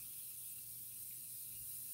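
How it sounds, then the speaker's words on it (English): Thermal spring water misted onto a face from a spray can, a soft continuous airy hiss lasting two seconds, quiet and close with no speech. "But I'm spraying this on my face because it's water."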